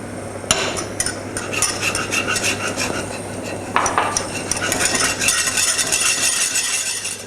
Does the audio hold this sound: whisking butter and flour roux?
yes